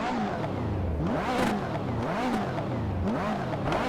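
A Ferrari F40 in Assetto Corsa revs hard from outside the car, with repeated rising and falling engine sweeps in a steady rhythm, loud and continuous with a raspy, whooshing exhaust note.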